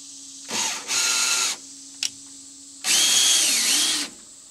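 A power tool drills into an old microwave being taken apart, with a short whir, a longer steady run, a brief click, then another sustained high whine, fairly near and loud over a low steady hum.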